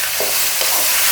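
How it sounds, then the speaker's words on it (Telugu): Chicken pieces fry in a pan with a steady loud sizzle while being stirred, with a couple of soft scraping strokes through the hiss. "ఇప్పుడు ఇవి మన చికెన్ ముక్కలు మంచిగా కలుపుకోవాలిగా"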